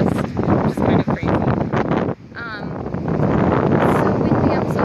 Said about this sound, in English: So windy, I'm so sorry, guys.